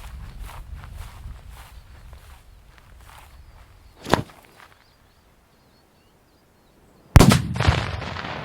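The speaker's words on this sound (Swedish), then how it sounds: "2 sekunder kanske innan själva saluten tänder." A roughly 40-year-old Swedish salute firecracker goes off with a sudden loud, sharp bang after a few seconds of low rustling and a smaller pop, leaving a short rumbling tail close by.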